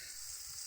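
Radish greens frying in a pan give a steady, close, crackling sizzle that continues without a break, with no voices.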